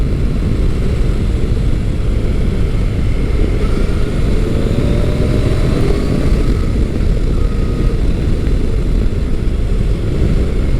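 A Yamaha FJ-09 motorcycle engine drones steadily and loudly while riding through twisty roads, mixed with heavy wind rush, the pitch shifting slightly as the bike transitions.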